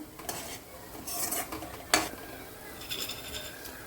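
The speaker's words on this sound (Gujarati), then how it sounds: "હવે એને મિક્સ કરી દેવાનું, ખાંડ ઓગળી જાય ત્યાં સુધી ઉકાળવાનું" A spoon stirs sugar into boiling water in a pot, giving soft intermittent scraping and clinks with one sharper knock near the middle over a faint bubbling hiss; no speech.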